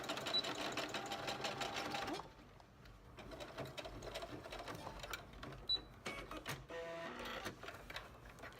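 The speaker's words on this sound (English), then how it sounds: "you're going to sew from this stitch line down to the bottom with a 3/8 inch seam allowance" A sewing machine stitches an exposed zipper seam, running loud and steady at first, then stopping and starting again in shorter, uneven bursts nearby.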